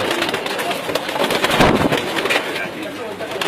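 Pigeons in a loft cooing and fluttering close by, a dense, busy flock sound with scattered wingbeats and rustling throughout.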